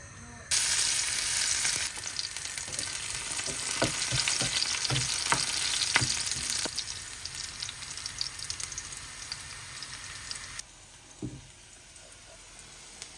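Oil hisses and sizzles steadily in a pan, likely with dried red chilies, as onions brown for a Bangladeshi beef and chickpea lentil curry; clicks of stirring punctuate the frying before it thins out near the end.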